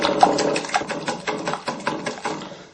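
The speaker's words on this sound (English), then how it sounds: "I'm going to use my little sort of hand whisk here, just to try and make it a bit frothy really" A small hand whisk beats eggs in a bowl until frothy for a chocolate cake, giving a loud, close, steady run of rapid rhythmic strokes with brief regular pulses and no talk.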